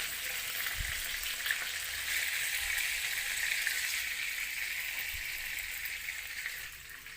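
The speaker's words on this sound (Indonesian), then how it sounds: "Kurangi minyak, lalu masukkan bumbu yang sudah dihaluskan tadi. Tumis bumbu hingga matang." Ground spice paste sautéing in reduced oil in a pan after frying fish, a steady close sizzle throughout with faint clinks of stirring, no voices.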